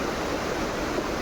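Water rushing steadily through an open drain channel in Dehradun, a dense, even roar with no breaks, fairly close and heard alone.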